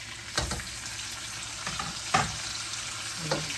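Tomatoes tossed into pork binagoongan frying in a pan, with a constant close sizzle broken by a few scraping stirs and soft knocks of a utensil.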